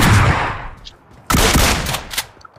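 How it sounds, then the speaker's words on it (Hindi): Gunshots in a mobile battle royale game, fired in two loud, close bursts with a short lull between them and scattered fainter shots trailing after. "भाई दो दो तीन तीन शॉट मार रहा"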